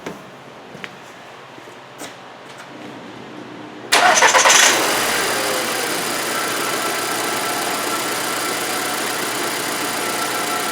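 A 2008 Volkswagen Passat 2.0T with a fuel pressure fault and extended cranking fires up abruptly after a few quiet clicks, then settles into a loud, steady idle close by, with no voices.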